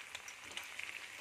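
Pork frying in a pan while browning, a faint steady sizzle with soft crackles and pops spread across the short moment, no voices.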